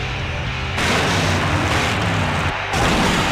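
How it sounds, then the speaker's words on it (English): A big explosion in the Full Throttle point-and-click PC game, a loud, sustained broadband roar that holds at full strength for several seconds with a brief dip before surging again, with no voices. "Now that's an explosion, ladies and gentlemen."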